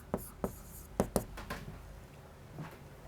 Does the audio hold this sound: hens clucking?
no